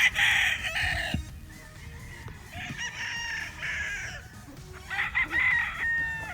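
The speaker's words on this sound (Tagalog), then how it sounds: "Ayan yung pangalawang broodstag na gray mga paps na gagamitin natin." A gray broodstag gamecock crows three times, loud and close. Each long call is separated by short pauses, with soft rustling and clucking in between.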